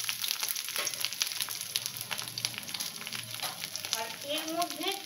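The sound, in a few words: bitter gourd being stirred and fried in a pan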